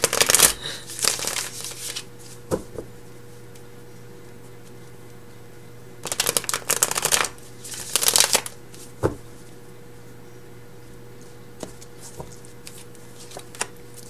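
After Tarot deck cards being shuffled in several quick riffling bursts, close and crisp, separated by quiet pauses and a few soft taps as cards are handled.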